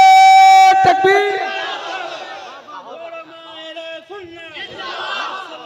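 A crowd at a religious gathering shouts back in answer to the Naara-e-Takbeer call, a loud burst of massed voices at the start that thins into scattered, softer crowd noise and chatter.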